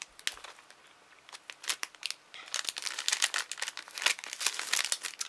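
Wrapping paper on a parcel is pulled open, with quiet rustling at first and then dense, close bursts of crinkling and crackling, with no voices.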